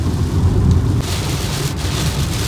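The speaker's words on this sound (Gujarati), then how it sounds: "ફૂલ વરસાદ, એકદમ ખતરનાક વરસાદ" Heavy rain pounds a car during a self-drive from Ahmedabad to Nashik near Surat. The downpour is a loud, unbroken roar of drumming rain, close and dense, heard alone without talk.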